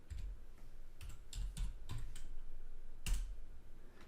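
Typing on a computer keyboard during a Linux terminal session, with irregular clusters of soft key clicks, close and quiet, no talking.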